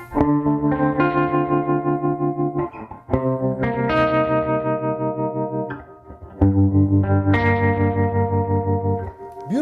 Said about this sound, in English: So if you listen to the vibrato,